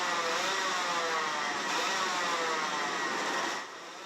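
Mini Max racing karts on the grid at Genk drone together in a steady, distant-sounding engine roar, holding level for several seconds before dropping slightly at the end.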